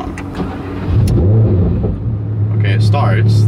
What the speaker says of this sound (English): Let's see what happens when I turn it off and then turn it back on.